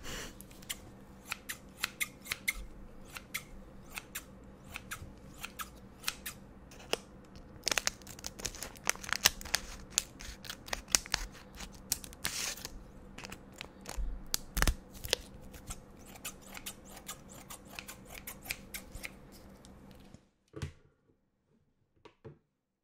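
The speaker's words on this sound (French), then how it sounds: "Je vais utiliser des ciseaux, ce sera plus simple." Scissors snip repeatedly, with crinkling packaging, as they cut open a Pokémon card box for the Dracolosse V collection; a dense run of close, sharp cuts continues for about twenty seconds, then stops abruptly.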